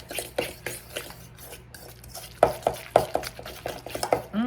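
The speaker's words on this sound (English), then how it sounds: "Let me give it a stir." A spoon stirs a tuna and mayonnaise mixture in a bowl, giving soft squelching scrapes and a run of quick clinks against the bowl. The stirring is close and grows busier toward the end, with no talking.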